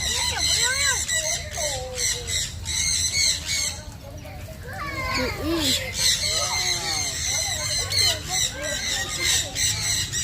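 Birds at a wildlife park squawk and squeal in repeated harsh bursts, loud and close, with people talking over them.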